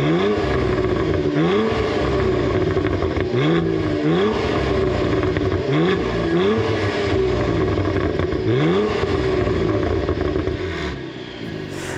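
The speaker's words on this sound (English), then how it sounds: "Let's fire this thing up so you can hear how it sounds." A 2022 Cadillac CT4-V Blackwing with active exhaust, its engine repeatedly revved in a rhythmic series of rising blips over a loud, close idle.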